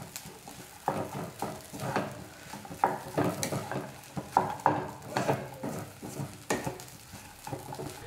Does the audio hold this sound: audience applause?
no